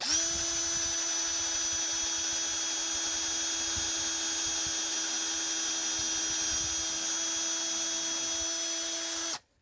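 A drill bores through the thick metal corner of a toy bus with a steady, loud, high-pitched whine that holds evenly for nearly ten seconds before cutting off abruptly.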